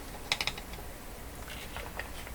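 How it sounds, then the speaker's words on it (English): Pliers tightening a nut against a wooden dowel while working on a Philco Model 24T five-tube radio, giving a quick cluster of small ratcheting clicks followed by a few fainter scrapes, close and quiet. "Tightening against a wooden dowel"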